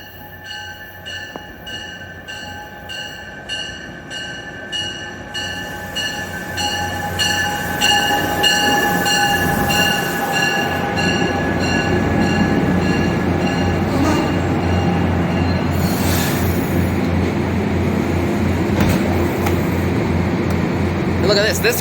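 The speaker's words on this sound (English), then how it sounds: "here comes train 6837 from Danbury to South Norwalk" A Danbury Branch train, number 6837, pulls into Merritt 7 station, its rumble and rail noise swelling from moderate to loud and holding close, with a faint tonal hum and a brief horn-like tone.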